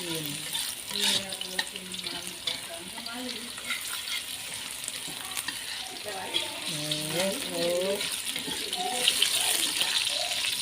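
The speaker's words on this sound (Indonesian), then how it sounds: "kita tumis terus sampai kekuningan dikit ya" Spice paste sautéing in a pan for a Betawi sour-spicy beef dish, a continuous soft sizzle with stirring scrapes, while a faint voice talks in the background.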